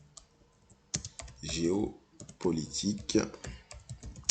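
Keys clatter on a computer keyboard as a search query is typed, fast bursts of clicks running under a man's French speech close to the mic.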